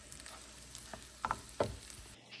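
Faint sizzle of egg being stirred into sesame chicken and rice frying in a pan, with a few scraping clinks of the utensil against the pan and no talking.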